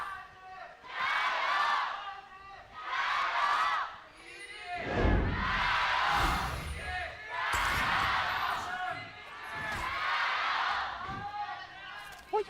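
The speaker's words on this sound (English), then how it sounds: "You can hear the crowd is dead silent as the chants begin" A large esports arena crowd at a 2018 LPL Summer League of Legends match between Edward Gaming and Invictus Gaming chants in loud rhythmic waves of massed voices, with a deep booming thump partway through.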